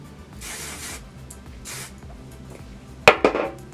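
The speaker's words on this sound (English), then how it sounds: "I'm going to take the texture spray" Two soft bursts of aerosol texture spray hiss close by onto hair, then a couple of sharp clinks of a can or bottle being set down.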